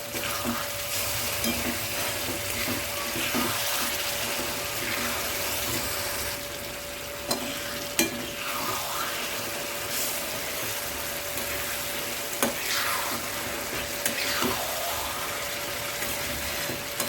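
Khandeshi-style ridge gourd bharit fries in a pan with oil, sizzling steadily and close. Occasional soft stirring clinks and scrapes break through the hiss.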